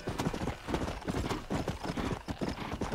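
Horse hooves beat in a quick, rhythmic clip-clop gallop within Red Dead Redemption, steady and moderately loud with no talking over them.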